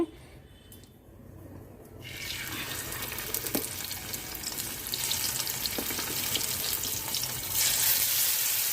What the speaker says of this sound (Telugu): ఆయిల్ వేడవింది ఇప్పుడు స్టఫింగ్ చేసుకున్నాం కదండి కాకరకాయలు పెడతాము